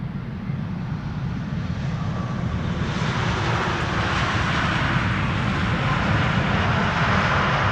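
Airliner arriving at Amsterdam Schiphol Airport, its engines a steady, loud broadband roar that holds throughout without any voices.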